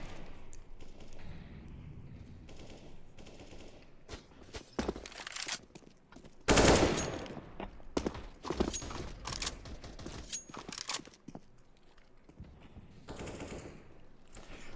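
Counter-Strike match on Inferno or Cache, with scattered rifle and pistol gunfire in bursts and single shots, some sharp and loud and some distant, mixed with footsteps and game noise.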